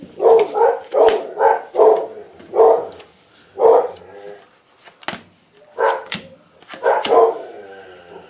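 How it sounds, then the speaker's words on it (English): Dogs bark repeatedly in short, uneven bursts, fairly close and clear, with brief quiet gaps between barks and no talking. "there's the dogs barking in the background"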